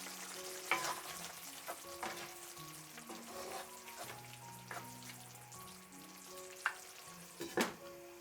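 A Taiwanese sticky rice preparation with sauce simmering over low heat, giving a quiet, steady sizzle and bubbling with scattered light clinks and taps of stirring, no voices.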